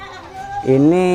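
A single short bleat from a goat, close and fairly loud, rising toward the end.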